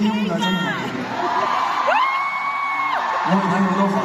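Fans scream and cheer at a concert at the Londoner Arena, a loud, continuous wash of high-pitched crowd shrieks and whoops filling the hall.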